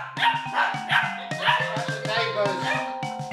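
Several dogs bark and yip back and forth at close range in short, overlapping bursts, with a whimpering, voice-like quality throughout the exchange.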